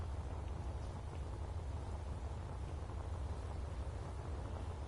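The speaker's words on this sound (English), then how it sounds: "Oh, look, it's raining." Steady rain falling in the survival video game Helios Underground Survival, a constant broadband hiss with low rumble, unbroken and even throughout.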